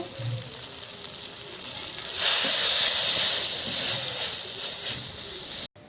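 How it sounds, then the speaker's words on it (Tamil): Fish curry masala with ground spices and chilli powder sizzling while sautéed for a sardine fish gravy in a village kitchen, a steady hiss that swells louder midway and carries on alone before cutting off abruptly. "மசாலா நல்லா வதங்கிடுச்சு"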